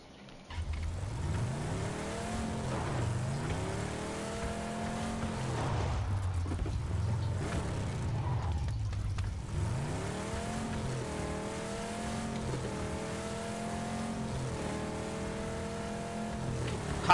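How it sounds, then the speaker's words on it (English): Car being driven in the video game PUBG, engine revving up and down repeatedly through gear changes at a steady, moderate level, with a brief tire squeal and no talk. "Let's just get in the car."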